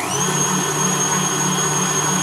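An electric mixer whirs steadily and loudly through cake batter of flour and baking powder for a yogurt cake, a constant close motor drone with a high whine and no pauses.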